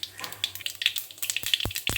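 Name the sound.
black mustard seeds frying with chillies in oil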